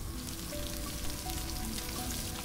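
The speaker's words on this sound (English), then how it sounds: "I love that microwave sound when the meat's done cooking." Meat finishing cooking in a video game: a steady sizzling, frying hiss with a few brief, faint tonal beeps, like a microwave-style done signal, at a low, even level.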